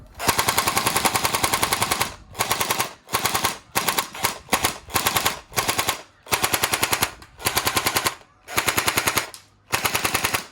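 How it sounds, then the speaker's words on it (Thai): A CZ805 Bren gel blaster fires full auto in rapid rattling bursts, about a dozen strings of shots separated by brief pauses, loud and close with no talking. "ลองยิงรัวดูหมด"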